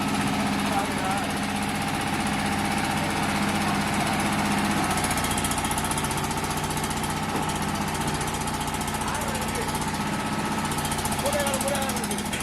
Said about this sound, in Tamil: இந்த டீசல் இன்ஜின் ஃப்ளை ஆஷ் பிரிக் மிஷின் டபுள் பம்ப்